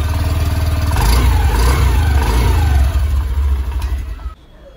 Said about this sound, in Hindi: अगर इसके एग्जॉस्ट साउंड की भी बात करें तो ये आपको काफ़ी ज़्यादा स्मूथ और साइलेंट लगेगी।